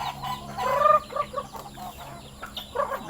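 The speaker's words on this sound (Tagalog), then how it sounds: "feeding time na naman ng ating mga alagang manok." Backyard pet chickens cluck busily at morning feeding time, several birds calling in quick overlapping bursts close by, with no talking.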